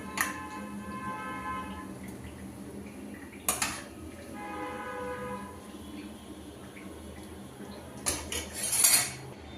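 Metal utensils clink and scrape against a pan as carrot malpua are lifted one by one out of sugar syrup, several sharp close clatters standing out over a quiet kitchen background.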